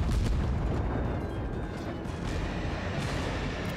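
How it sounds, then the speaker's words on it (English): Heavy cruiser guns of the Tier II Chikuma boom in a naval battle game, a loud, deep rumbling salvo rolling on and fading over a few seconds with no voices. "it's a double click to fire all guns"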